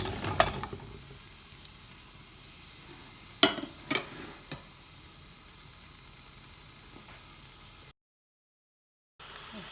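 Butternut squash tipped into a soup pot sizzles in a steady hiss, with a few sharp clatters partway through, then the sound cuts out briefly near the end.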